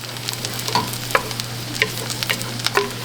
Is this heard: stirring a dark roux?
yes